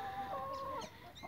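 Young criollo roosters and hens make a short, faint clucking call, a single brief drawn-out note heard alone.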